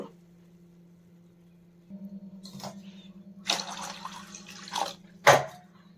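Water poured over washed lentils for soaking, ahead of making masala vada, comes in a few splashy bursts over a steady low hum, with a final short sharp splash.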